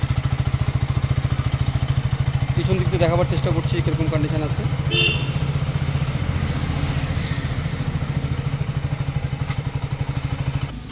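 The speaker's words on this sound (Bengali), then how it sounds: "ইঞ্জিনের সাউন্ড টাউন শুনিয়ে দিচ্ছি।" A second-hand motorcycle, 24,000 km on the clock, idles steadily with a continuous close engine thrum and a light mechanical clatter, while someone talks over it throughout.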